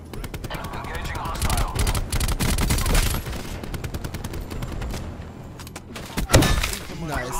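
ABR rifle fire in Call of Duty, heard as dense rapid bursts of gunshots with impacts and breaking debris, loud and close, mixed with game effects and a player's voice talking over the action.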